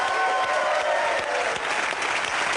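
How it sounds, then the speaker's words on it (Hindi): A studio audience on a Hindi TV comedy show applauds the little girls' dance, a loud burst of continuous clapping with a faint crowd murmur. "छोटी छोटी बच्चियों के लिए ढेर सारी तालियां"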